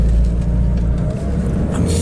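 A car drives past on a quiet road: a steady low engine and tyre rumble, fairly close and loud, with no talking over it.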